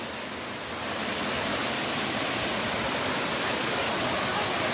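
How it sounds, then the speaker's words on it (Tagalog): Small waterfall beside a hiking trail in Ng Tung Chai, Hong Kong, roaring as a steady, dense wash of falling water that fills the scene close by and continuously, with no voices over it. "May waterfalls kami nadadaanan."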